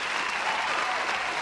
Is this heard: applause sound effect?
yes